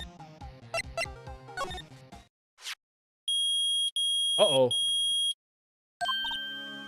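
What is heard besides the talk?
metal detector beeping in Ace Attorney video game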